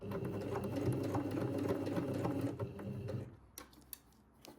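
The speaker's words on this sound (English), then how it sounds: "So sewing through all thicknesses here, the facing, double layer of the collar and the garment" A sewing machine stitches a revere collar through the facing, double collar layer and garment, a continuous close mechanical whir for about three seconds, then stopping, followed by a few faint clicks.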